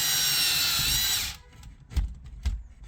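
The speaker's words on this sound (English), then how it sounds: "He's got his drill bit in reverse, so we don't cut into the pipe. It's just cutting into the drywall." A power drill with its bit running in reverse bores into drywall beside a waste pipe, a loud steady whine for over a second, then stops, leaving a few knocks and bumps.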